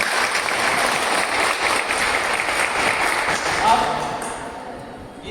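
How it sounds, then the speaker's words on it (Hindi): Seminar audience applauding: a dense, sustained wash of many hands clapping in a hall, loud and even for several seconds before tapering off at the end, with a voice mixed in. "इस सेशन के लिए एक बार जोरदार ताली हो।"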